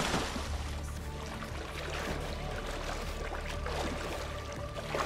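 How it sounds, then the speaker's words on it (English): Steady underwater ambience of water and waves from the video game Subnautica, a continuous wash with faint tonal hums running beneath it and no talking. "I hear the waves."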